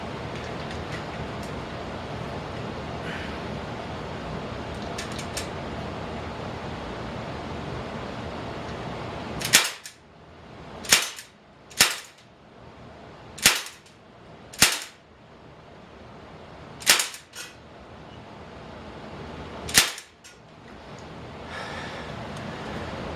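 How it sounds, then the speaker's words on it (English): A Sig Sauer MPX .177 pellet rifle fires semi-automatic at steel targets: seven sharp, loud cracks spaced a second or more apart, after a quiet stretch of background hiss. "Let's go ahead and got it switched on semi-automatic. Let's take those targets down."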